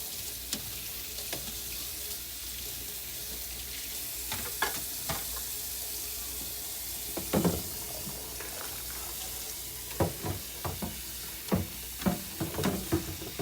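Water running in a kitchen sink to rinse pots and pans after cooking, a steady faint rush of flow with scattered clinks and knocks of cookware against the basin.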